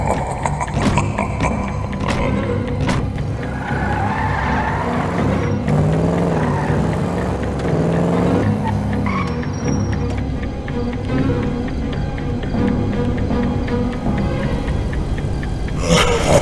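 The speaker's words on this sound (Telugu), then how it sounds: "అరే, ఏదో కారు శబ్దం వచ్చింది" A car engine in GTA 5 drones continuously for the whole stretch, a steady mid-loud motor rumble mixed with other game sounds.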